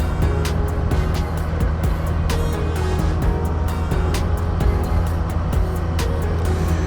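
A steady, loud motorcycle engine drone from a Benda Rock 250 with constant rushing wind noise, recorded while riding at speed, with no voices.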